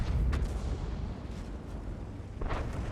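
Tank cannon fire from World of Tanks as a T-32 lands a hit on a Pershing: a heavy, rumbling boom opens the moment, followed by a second, sharper burst close to the end.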